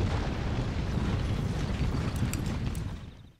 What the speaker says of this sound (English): And cannons are firing away.